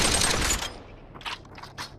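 Rapid automatic gunfire in the VR game Population One, a dense loud burst for about half a second, then scattered lighter shots and clicks trailing off.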